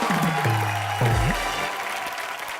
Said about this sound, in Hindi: तो सबसे पहले उसके लिए तालियां।